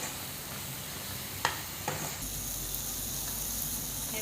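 Spice masala for chana masala sizzling in hot oil in a pan, a soft steady fry with a couple of sharp scrape-and-stir clicks from the spoon, close and fairly quiet, no talking.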